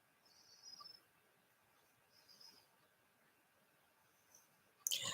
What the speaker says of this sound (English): I love Joyce's birds.